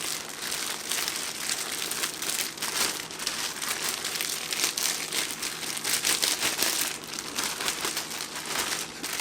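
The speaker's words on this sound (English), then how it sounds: "I like putting it in the plastic bag just because I don't have to touch it, and I can mix all the seasoning around." Plastic bag crinkling steadily as chicken wings are shaken and mixed with seasoning inside it, a close, continuous rustle with dense crackles throughout.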